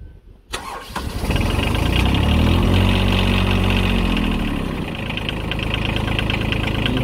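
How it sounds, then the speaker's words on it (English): A Green Climber MP-100 PLUS mini material handler's engine cranks briefly, catches and settles into a loud, steady idle close by with no talk. "You hold the start button till it turns on."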